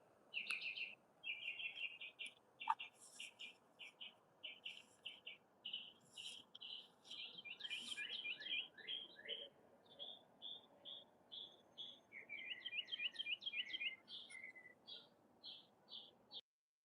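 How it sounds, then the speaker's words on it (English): A mockingbird sings in the morning in a long, varied run of quick repeated high chirps and trills, steady and fairly near, with a faint insect-like buzz underneath. "And he likes to chirp in the morning."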